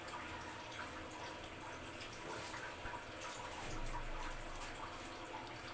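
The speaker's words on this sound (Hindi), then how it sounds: "ऊपर पानी लगाएंगे ताकि ये खुश्क ना हो।" Water is applied over kneaded golgappa dough, giving a faint, steady wet hiss and soft trickling throughout, quiet and close with no voices.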